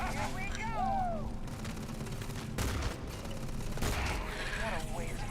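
Gunfire in the video game Starfield: a dense, continuous burst of rapid shots and impacts with sharp louder cracks partway through, heard close and loud alongside music and game sound effects.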